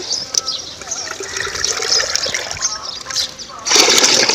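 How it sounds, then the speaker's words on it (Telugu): Water is poured onto potted plants in hot sunny weather, making splashy trickling and spattering sounds up close, with a louder gush toward the end. "ఈ నీళ్ళు పోస్తున్నాను"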